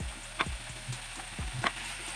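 Spices being stirred into a pan for carrot paratha filling, a few soft spoon scrapes and taps over a faint steady hiss, close and fairly quiet.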